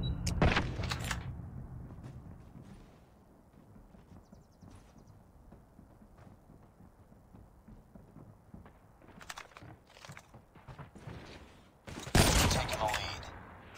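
Gunshots in a first-person shooter video game, loud sharp bursts near the start and again toward the end, with quieter game sounds and faint talk in between.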